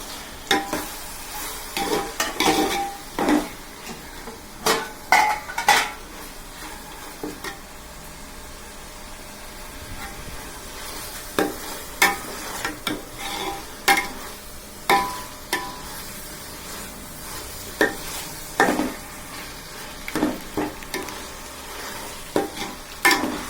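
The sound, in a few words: tomatoes added and stirred into frying mutton biryani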